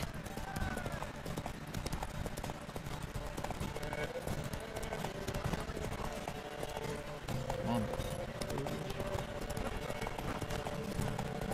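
Horse hooves galloping in The Witcher 3 during a race, a steady clip-clop running under in-game voices and the player's talk, continuous and moderately loud throughout.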